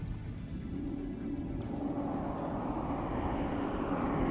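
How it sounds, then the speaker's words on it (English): A military airplane taking off in a combat video game, heard as a broad, steady rumbling roar that swells slightly as it continues, with no voices over it. "There's the plane taking off again."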